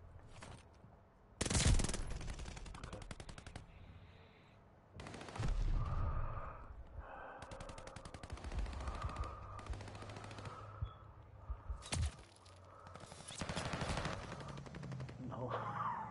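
Death machine minigun firing in the Call of Duty Vanguard video game, several loud sustained bursts of rapid gunfire separated by short pauses, with other battle noise between them.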